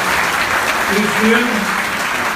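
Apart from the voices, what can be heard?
audience applause at university speech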